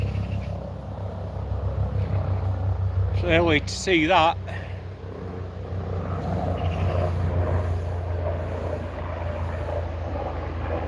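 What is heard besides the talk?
military helicopter flying overhead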